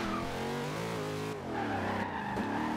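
Car drifting in Forza Horizon 2, engine droning at high revs with shifting pitch as tires squeal and skid through a slide, loud and close with no talk.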